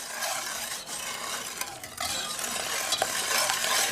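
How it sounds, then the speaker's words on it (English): Continuous scraping swish of a whisk stirring a chocolate pudding mixture of whole milk in a bowl, steady and close, with a few brief louder clinks against the side; no talking. "while we continue to whisk"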